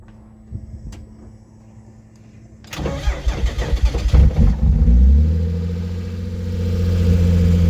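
A car engine cranks briefly and fires, then settles into a steady, loud idle at close range, with a light rise in revs as it runs.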